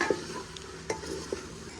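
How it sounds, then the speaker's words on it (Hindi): Chicken stir-fries with onions in a pan, giving a soft continuous sizzle. Three or four brief scraping stirs stand out close by. "अभी प्याज तैयार हो गए थे तो हमने पहले चिकन डाला है, इसको अच्छे से भून लेंगे"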